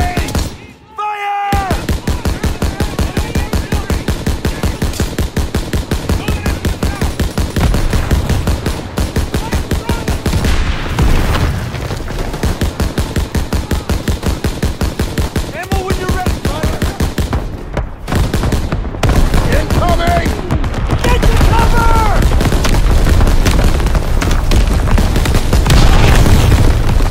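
Rapid machine-gun fire rattles nonstop in a Call of Duty WWII battle, loud and dense, with booming explosions mixed in and shouting voices heard over the barrage.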